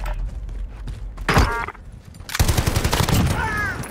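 Gunfire in the Call of Duty Modern Warfare video game: a short burst of shots, then a louder, sustained stretch of rapid automatic fire.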